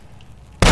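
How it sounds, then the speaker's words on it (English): A grenade or dynamite blast in Fallout: New Vegas erupts abruptly and loudly after a short, quiet lull. "maybe I should throw some grenades up there"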